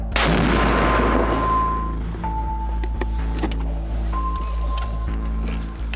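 A single loud mortar shot booms at the start on the left bank of the Dnipro near Kherson, then a long fading rumble with a low engine-like drone underneath.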